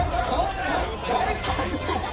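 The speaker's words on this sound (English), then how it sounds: "Cheer for the eater that you want to see win." A Brooklyn crowd at a dumpling eating contest cheers and chatters steadily, a dense, close babble of many voices that swells slightly in waves across the moment.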